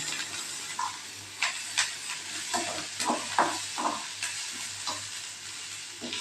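Onion and green chillies sautéing in a pan, soft sizzling with repeated scraping stirs of a spoon at an uneven rhythm, fairly quiet with no talk.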